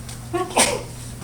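A single sharp sneeze bursts out in a classroom, close and brief, with a short throat sound just before it over quiet room tone.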